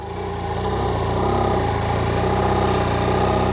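A stuck motorcycle's engine runs steadily, turning the rear wheel slowly to pull a cable; a loud, close, even mechanical drone with a rhythmic low pulse and no talk.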